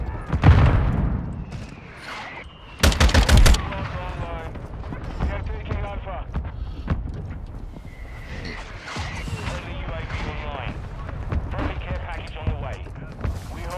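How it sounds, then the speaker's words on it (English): Mortar rounds land in a Modern Warfare 2 multiplayer match, heavy booms and gunfire bursts rumbling under near-constant player chatter, with one loud sharp volley standing out early. "Mortar fire coming in on A."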